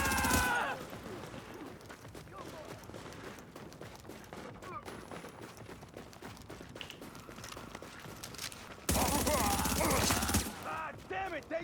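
Enemies fire on the player in a video game: scattered gunshots and rattling bursts crackle at moderate distance, under talk, then swell into a loud, dense volley near the end.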